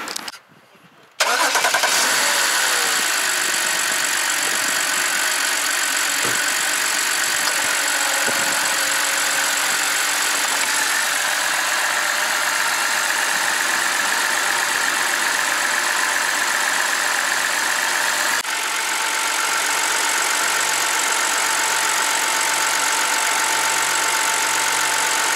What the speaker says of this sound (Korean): 시동을 한번 걸어보겠습니다.